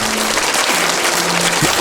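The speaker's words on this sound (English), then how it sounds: "Huge round of applause real quick for" Podcast studio applause for two guests, a steady broadband clatter of hands lasting under two seconds, with a faint tone humming beneath it.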